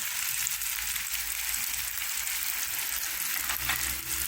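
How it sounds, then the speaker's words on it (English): Coriander seed, cumin and chili sauté in a pan for a Jamaican tofu and spinach curry, giving a steady, close, even sizzle with no talking. "And then I'm going to saute this."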